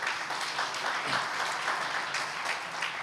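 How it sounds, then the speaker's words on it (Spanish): A congregation at a church gathering gives strong, continuous applause, a dense wash of clapping that stays at full level for the whole short moment. "fuerte el aplauso para Dios"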